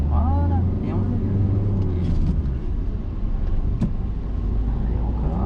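A car engine drones steadily and close inside the cabin during a driving lesson, with the low hum rising slightly as it accelerates, while an instructor and learner talk over it.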